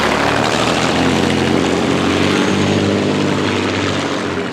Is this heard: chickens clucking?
no